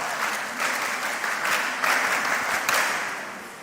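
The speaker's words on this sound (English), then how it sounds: "Give her a clap." Steady applause from an audience at a mentorship session, a dense wash of many hands clapping together for a few seconds before tapering slightly at the end.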